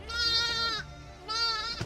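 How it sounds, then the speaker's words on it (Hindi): Ten-day-old baby goats among nomadic herders on the Changthang plateau in Ladakh bleat loudly and close by, two drawn-out quavering cries separated by a brief pause. "ये छोटी गोट्स जिन्हें जन्म लिए हुए 10 ही दिन हुए हैं, वो बेचैन हो रही थी।"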